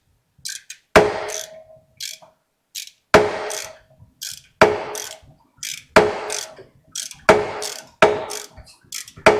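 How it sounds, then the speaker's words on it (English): Wrench cranking on the balancer bolt of a Gen 2 LT1 engine, loud metallic clicks and snaps repeating about every second and a half, each followed by a short ratcheting rattle, close and with no talk. "You hear that pop? That means it's coming loose."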